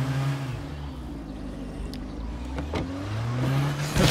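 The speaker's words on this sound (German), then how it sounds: "Der ist etwas laut, der Motor" A car engine in the video game State of Decay 2 hums and revs steadily with shifting pitch, rising toward the end, with no talking.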